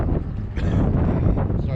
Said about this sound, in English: It was windy as hell last night. Still is.